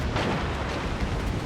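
Torpedoes striking a ship in the space combat game Kamikaze-R: a short, continuous rumbling blast of explosions, dense and fairly loud throughout, with no talk.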